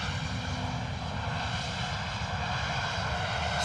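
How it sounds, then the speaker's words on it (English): A Ryanair airliner arriving from Dublin on a slow approach to London Luton Airport in misty weather, a steady, loud engine drone holding constant throughout with no voices. "Ryanair coming in slow from Dublin this morning."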